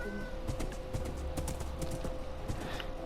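Horse hooves clip-clop at a steady walking pace in a video game, with soft ambient game sounds underneath and no talking.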